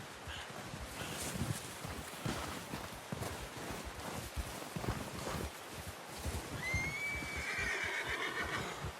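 Horse neighing in the video game Red Dead Redemption, a clear whinny rising near the end over clip-clopping hooves and wind-like rumble throughout, no talk heard.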